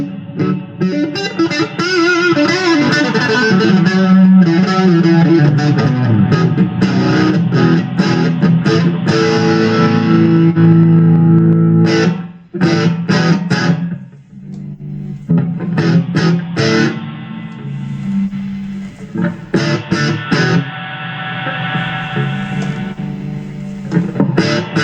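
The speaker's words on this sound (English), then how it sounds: "So 4 very nice reverbs there, some very huge ones at the end." Electric guitar played through a Blackstar ID Core 20 amp with its reverb effects, loud sustained chords and notes with long washy tails, interrupted by short bursts of strummed chords and pauses before ringing on again.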